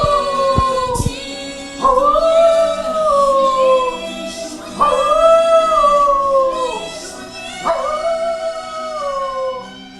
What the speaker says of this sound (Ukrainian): завдяки цій пісні виявили співочий талант собаки